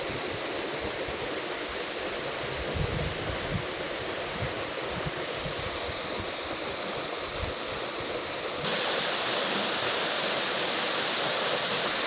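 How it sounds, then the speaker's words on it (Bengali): Steady, dense rush of water pouring down Choto Shuvolong waterfall at Kaptai Lake in Rangamati, a loud continuous roar that holds without pause and brightens slightly near the end. "এটা হচ্ছে ছোট শুভলং ঝর্ণা"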